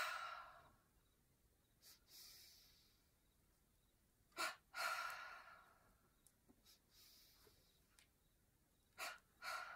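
Breathing-exercise exhales come as soft, close breathy sighs and pushes of air, a few longer releases with short double puffs between, faint and alone with no talk.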